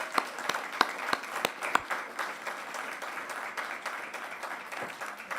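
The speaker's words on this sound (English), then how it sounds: "If we can just give them one round of applause for a great season this year" An audience at a school board workshop gives a round of applause for a school sports team after its season, a dense patter of clapping with some loud nearby claps at the start that settles into a steady, even roar.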